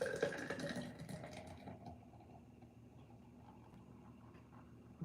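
Beer hard poured into a glass, a fairly loud gushing, splashing pour at the start that fades after about two seconds into a quiet fizz of foam.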